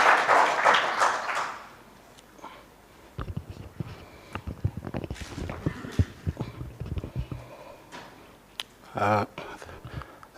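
Audience applause at a pre-Games symposium and heads of delegation meeting as a speaker is welcomed, a dense burst of clapping at the start that fades, followed by scattered noises and talk.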